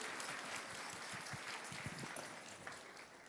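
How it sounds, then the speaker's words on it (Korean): Congregation applauding at a church ceremony for graduates of an intercessory prayer school: a faint, steady wash of many hands clapping at once, held evenly for several seconds. "다시 한번 큰 박수로 축하하겠습니다"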